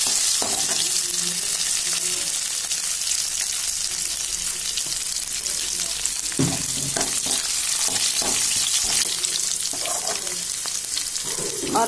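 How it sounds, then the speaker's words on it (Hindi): Fox nuts, cashews and raisins roast in a pan with loud, continuous frying sizzle and stirring scrapes near the microphone, no speech over it. "मखाने हैं, और ये 2 4 5 काजू हैं और किशमिश है, इनको भी इसी में डाल देंगे। इनको थोड़ा सा भून लेंगे हम।"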